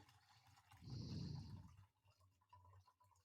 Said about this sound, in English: 1 Red Bull going in.